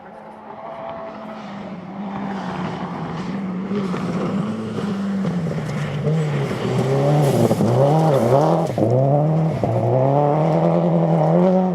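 A rally car on a stage of the 2012 Oregon Trail Rally accelerates hard, its engine note climbing from a distant hum to a loud, close rasp, then rising and falling repeatedly through gear changes, with occasional tire noise.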